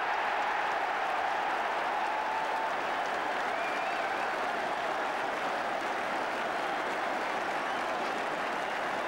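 A big football crowd at Highbury stadium applauds in a dense, sustained roar of clapping and cheering, steady and broad from the stands with no distinct voices.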